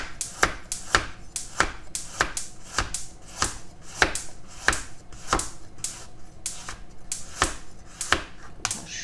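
Julienned carrot being chopped on a cutting board for vegetable fried rice, a steady series of sharp knife taps repeating about twice a second, close and clear with no talking.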